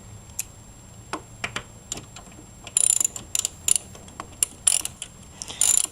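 A ratchet wrench clicks while tightening bolts on a budget grounding kit, coming in scattered short bursts of ratcheting, close and fairly sharp, over faint background noise.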